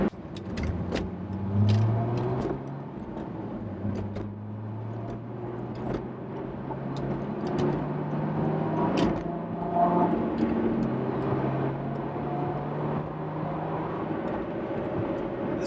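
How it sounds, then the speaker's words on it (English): A 2005 Chrysler Crossfire with a V6 engine drives along, its engine drone close and steady, rising and falling in pitch as it accelerates and shifts, with light road and cabin noise and no talk. "This car, if you didn't know it had a V6, you'd almost think it had a V8. It has a V8 growl to it"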